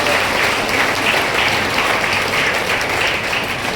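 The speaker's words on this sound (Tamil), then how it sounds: "நான் கைத்தட்டுங்கன்னு கேட்கவே கூடாது, மனசுலேருந்து வரணும்." An audience of seniors at a Rotary Club Diwali celebration in Chennai breaks into sustained, dense applause, a loud even roar of many hands clapping with no voices over it.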